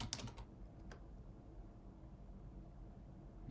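Faint, brief flurry of keystrokes on a computer keyboard at the start, then near silence with a low background hum.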